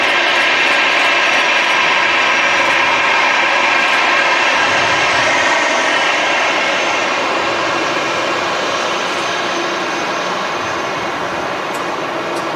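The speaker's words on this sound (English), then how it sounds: "Oh, it does have the engine sound." A loud, steady airliner jet engine roars without pause at Manchester Airport, a broad airplane rumble with a high whine running through it and nobody speaking.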